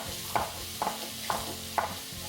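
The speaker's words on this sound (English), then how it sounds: "we're gonna let those start sauteing away" Mushrooms sauté in a skillet with a tiny pinch of salt, giving a steady soft sizzle broken by four or five regular scraping stirs of a utensil against the pan, close and alone.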